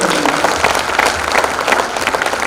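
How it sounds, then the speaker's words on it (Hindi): A large audience at an awards ceremony breaks into loud, sustained applause, dense steady clapping filling the room for the whole stretch. "तो जोरदार ताली बजाकर इनका"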